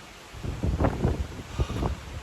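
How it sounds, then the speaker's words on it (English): Strong wind buffets a microphone outdoors on a high vantage point, a steady roaring rumble with louder gusty thumps swelling and fading over a couple of seconds, with no voices. "Look how windy it is."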